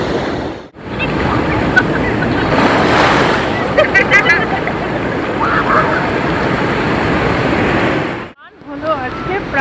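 Ocean waves at high tide on Puri beach roll in with a loud, steady roar of surf and wind noise against the microphone, nearly continuous with brief breaks.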